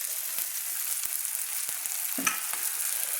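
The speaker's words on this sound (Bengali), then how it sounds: "দিয়ে বন্ধুরা আমি ভালো করে তেলের মধ্যে কষিয়ে নিচ্ছি।" Spice paste of black and white mustard seeds ground with cashews frying in hot oil for aloo chingri, a steady close sizzle with soft stirring clicks and scrapes.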